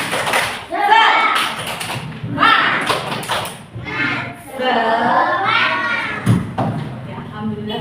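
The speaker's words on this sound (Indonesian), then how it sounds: "yuk kita lakukan tepuk semangat dulu" Schoolchildren in a classroom perform a rhythmic clapping chant, tepuk semangat, led by their teacher: loud, close claps in patterned bursts mixed with shouted children's voices, with a sharp thud near the end.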